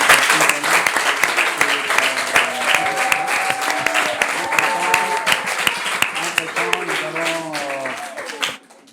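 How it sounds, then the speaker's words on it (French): An audience at a provincial school quiz competition applauds the winning team, clapping continuously under an announcer's voice and background chatter. "On applaudit les gazelles"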